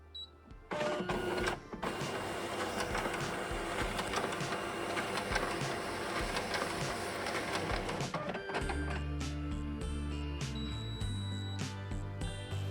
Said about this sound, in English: Here I scan 10 pages in two-sided.